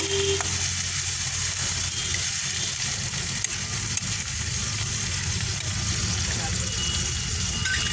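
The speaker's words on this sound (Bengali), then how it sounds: "পেঁয়াজটা লাল করে ভেজে নেব।" Onion paste fries in hot oil in a pan, giving a continuous loud sizzling hiss with low rumbling stirring movement, close and steady the whole time, with no one talking.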